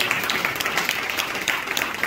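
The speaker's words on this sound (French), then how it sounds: "mais moi, je vais applaudir" Church congregation applauding during a service, a steady wash of clapping holding at an even level for the whole stretch with no voices on top.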